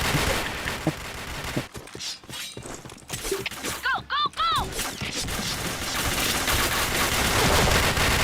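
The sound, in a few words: gunfire in a shooting video game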